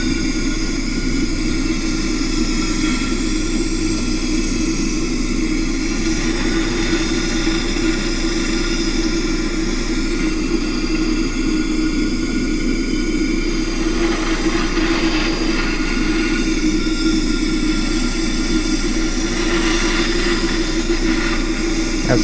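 A MAP gas torch roars steadily as its flame heats a metal Briggs and Stratton fuel tank to dry it. The loud, close, continuous hiss holds unchanged for the whole stretch, with no talking.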